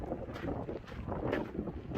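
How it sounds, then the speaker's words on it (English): Wind gusts rumble across the microphone in uneven bursts at the Grand Canyon, a low blustery roar that rises and falls. "got really windy in here for a moment"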